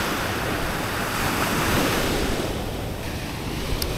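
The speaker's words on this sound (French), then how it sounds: "Et voilà la plage de Nha Trang." Surf rolls continuously onto the beach at Nha Trang, a broad steady wash of waves with wind rumbling against the microphone.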